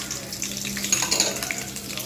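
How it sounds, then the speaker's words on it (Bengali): Green chillies and onion sizzle in hot soybean rice bran oil with black cumin, a steady close hiss and crackle of frying that runs throughout without a break. "তেল গরম হয়ে গেছে কালো জিরে দিয়ে দিলাম এবার আমি এর মধ্যে কাঁচা লঙ্কা পেঁয়াজটা দিয়ে দেবো"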